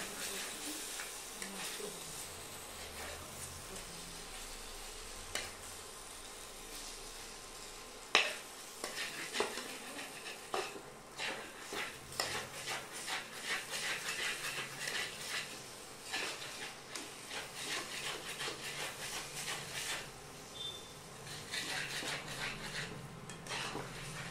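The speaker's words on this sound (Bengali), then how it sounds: "এবার এটাকে নাড়া দিতে হবে।" Chicken cooks in a pot and is stirred with a utensil, making a soft sizzle under repeated scraping and clinking against the metal that grows busier and more rhythmic toward the end, close-up with no talking.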